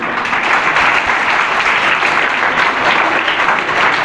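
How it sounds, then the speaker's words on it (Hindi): Loud, sustained applause from a school audience of students fills the room, a dense steady wash of many hands clapping at once without pause. "जोरदार तालियों के साथ"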